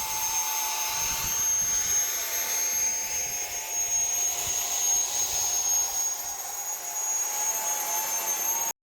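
A 3D-printed radio-controlled Harrier jet model hovers just above the ground, its fans producing a loud, sustained, high-pitched whine with a roaring rush of air that holds steady throughout, then cuts off abruptly at the end.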